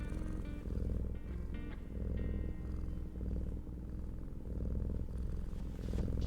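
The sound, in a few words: kitten purring close to microphone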